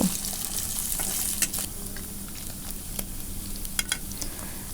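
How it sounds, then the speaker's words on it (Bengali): Boiled, chopped chicken pieces fry with onions in a pan, a close, steady sizzle with scattered crackles and light stirring scrapes. "এখন আমি পেঁয়াজের সাথে এই চিকেনটা ভেজে নেব"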